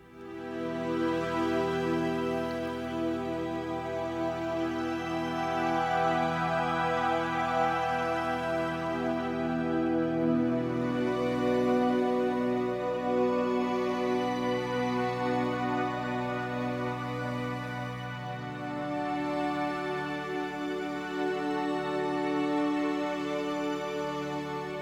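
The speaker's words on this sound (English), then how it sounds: "So that's the evolving pad sound" An evolving ambient pad made with Ableton Wavetable through grain delay, echo and reverb drones on at a steady volume, its tones shifting slowly and the low notes changing every few seconds in a warm, sustained wash.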